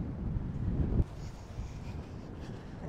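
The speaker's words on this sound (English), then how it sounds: "It's too windy here." Wind buffets the microphone by the sea on a cold Vancouver shoreline, low rumbling gusts that peak and then ease into a steady faint rush.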